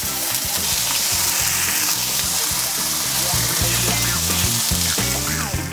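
Tomatoes sizzle in olive oil in a hot cast iron pan on a grill. The frying is a loud, steady hiss and crackle that continues throughout at close range.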